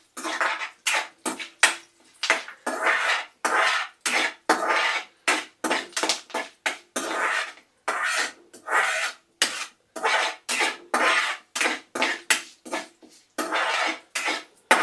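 Mustard seeds, cumin, dry chillies and curry leaves fry in hot oil, giving a rapid, irregular series of sharp crackles and pops, close and loud.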